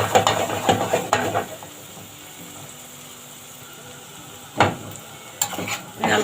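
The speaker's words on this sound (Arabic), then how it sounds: "ونقلب لغايه ما البصل يبقى ايه، متشوح، يعني داخل في التحمير" Onions frying in a pan and being stirred, with bursts of clattering, scraping stirs at the start and end over a soft background sizzle.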